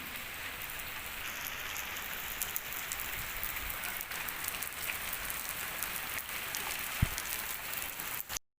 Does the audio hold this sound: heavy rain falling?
yes